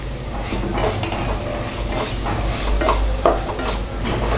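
A spoon mashes and stirs a tomato rice mixture in a hot pan for Nellore-style thakkali sadam, with steady scraping strokes over a constant low sizzle, close and fairly loud, with no talking.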